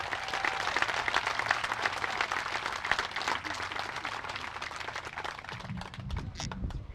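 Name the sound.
audience applause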